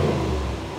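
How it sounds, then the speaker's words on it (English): Deep, rumbling rev of a 2018 Range Rover Sport SVR's 5-litre V8, a short loud burst heard alone without any talk. "It is a noise that is synonymous only with this 5 litre Land Rover engine."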